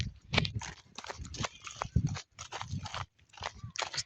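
A cow walks by, led out for washing in a Nepali village, its hooves clopping in an irregular string of close, sharp knocks with brief pauses between steps.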